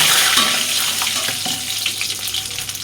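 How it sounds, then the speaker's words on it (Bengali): Black cumin and dried red chilies fry in a hot wok, giving a loud, continuous bright sizzle that crackles and fluctuates slightly throughout, with no talking. "গরম হয়ে গেছে কড়াইটা, দিয়ে দেবো কালো জিরে শুকনো লঙ্কা।"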